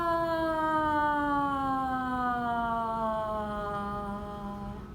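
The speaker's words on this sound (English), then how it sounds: "Now the next pitch glide that we're going to do, we're going to start a little bit high and go down to the bottom one." A single sustained vocal glide sung as a voice exercise, starting fairly high and sliding smoothly down toward a low note over about five seconds. The tone is steady and fairly loud, with no words.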